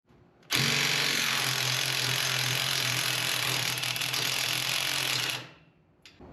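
A ratchet wrench loosens socket head bolts on a VW dune buggy, giving a steady, close mechanical whirring and clicking that runs for about five seconds before stopping, with no talking.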